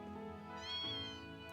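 A cat meows once in the video game Trails of Cold Steel II, a clear, rising-and-falling mew over soft background music.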